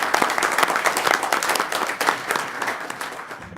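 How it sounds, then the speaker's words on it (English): A crowd at a board of directors meeting applauds continuously, many hands clapping at once in a dense, steady burst that holds throughout. "you owe yourselves a round of applause for the work you have done"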